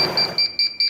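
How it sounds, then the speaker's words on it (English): A quilting machine gives a quick series of four or five short, high electronic edge-warning beeps at a steady rhythm, close and fairly loud. "So you can either turn that beeping noise off and just have the red lights flash."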